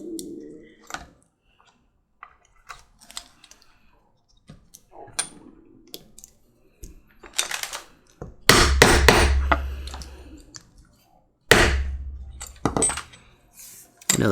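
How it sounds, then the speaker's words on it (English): A hammer strikes to set a leather rivet, with a few sharp, loud metallic blows close up following scattered light clicks and handling noises, and a voice talks between them. "it's just setting a rivet"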